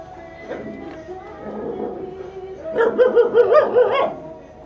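A dog howls in a wavering, song-like way, first softly and then in a louder rising burst of yips and wails. The sound is close by and comes between snatches of background voices on a walking tour in Binangonan.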